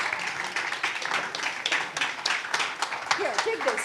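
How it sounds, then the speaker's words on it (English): Audience clapping at a women's leadership summit, a brief patter of applause heard close with a few louder individual claps and some voices mixed in underneath. "Give her a big round of applause."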